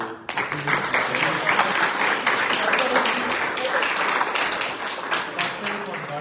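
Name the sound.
audience applause at a temple bhajan satsang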